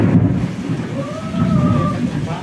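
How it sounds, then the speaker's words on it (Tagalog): A strong wind roars steadily with a low rumbling, storm-like texture, and a faint tonal whine rises briefly in the middle. "lakas ang hangin"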